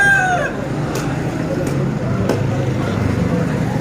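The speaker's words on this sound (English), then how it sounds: "He is not a good fighter. That chicken." A rooster crows briefly at the start amid the hubbub of a Peshawar bird market, followed by steady crowd and street noise with a few faint clicks.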